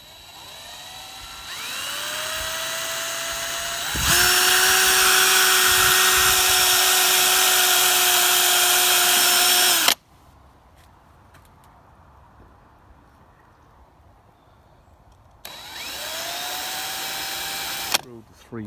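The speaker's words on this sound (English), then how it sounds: "Drilled the 3mm holes, all 6 of those." A power drill bores 3mm holes into the bumper surround of a Land Rover Freelander 2, with loud sustained whines that spin up and cut off abruptly, separated by a quiet pause before another burst.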